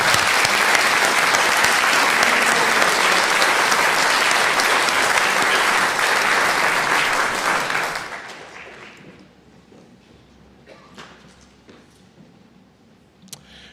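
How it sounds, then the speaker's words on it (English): A church congregation applauds during a Sunday morning service with loud, sustained clapping for about eight seconds, then fades to scattered claps and quiet room noise. "Let's give them a round of applause."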